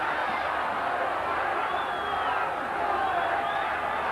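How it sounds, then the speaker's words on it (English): Rugby league crowd roaring and chanting in support of Queensland, a steady dense wall of voices from a large stadium audience, with a commentator talking over it. "The crowd getting behind. The chant goes up."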